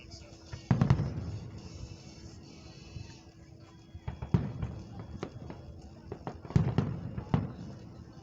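Fireworks at a Fourth of July Independence Day show in Van Wert, Ohio, at night: three heavy booming bursts spaced a few seconds apart, each trailed by crackling, with sharp pops in between and faint talk in the crowd.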